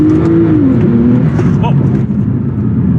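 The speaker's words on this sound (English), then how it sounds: "So I'm gonna go ahead and just set up this car on launch control." Car launched hard from a standstill on launch control, its engine note climbing steadily and loud and close, with a person exclaiming briefly over it.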